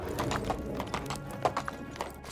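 Donkey hooves clip-clop in the medieval village game Medieval Dynasty: a steady, fairly close run of hoof strikes with a low rumble underneath and no talking.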